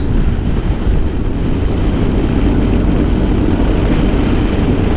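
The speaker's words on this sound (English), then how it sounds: "Felt the force of that wind." Strong wind in the Wicklow mountains roars loudly and steadily across the microphone outdoors, a dense unbroken rumble with no voices.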